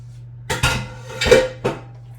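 Dishes and pans moved across a kitchen counter: four distinct clattering knocks of cookware and utensils, close and fairly loud, with quiet pauses between them and a low steady hum underneath.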